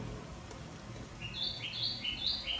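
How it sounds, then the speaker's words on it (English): A bird chirps in a repeating high two-note pattern, like a reversing beeper, over faint background hiss, ending in a sudden loud bump. "Bird, you're sounding like a car backing up."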